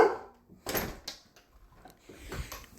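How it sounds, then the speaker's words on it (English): A household door swings and shuts with a few soft knocks and thumps, quiet and close indoors. "Let me shut the door."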